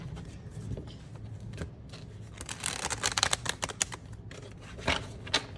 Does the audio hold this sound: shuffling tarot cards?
yes